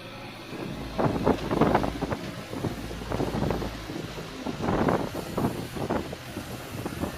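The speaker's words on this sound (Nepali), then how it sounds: "पुरै हावा चलिरहेको छ यहाँ, एकदम धुलै धुलो छ।" Strong wind gusts across a dusty construction work site, buffeting the microphone in repeated loud rumbling surges that rise and fall for several seconds, with no voices.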